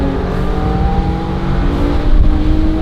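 A Nissan Z NISMO sports car drives on a mountain rally, its engine droning loudly and steadily from inside the cabin with a slight rise in revs near the end; no talking.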